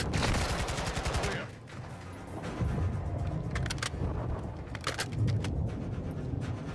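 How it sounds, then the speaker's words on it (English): Rapid gunfire in the shooter game Call of Duty: Modern Warfare II, sharp close bursts crackling over a constant roar of combat noise, with a voice talking briefly amid the shots. "Getting shot, running up into my bullets."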